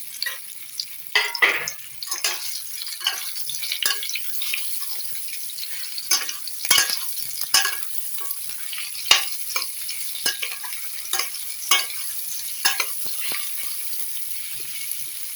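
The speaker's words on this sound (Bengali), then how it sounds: "ফোড়নটা আমার একটু ভাজা হয়ে গেছে, এবার আমি এই আমগুলো এর মধ্যে দিয়ে দেবো" Raw mango pieces are tossed into hot oil with a spice tempering for a sour, spicy and sweet pickle, giving a steady sizzle broken by repeated scraping and clattering stirs of the spoon in the pan, close up.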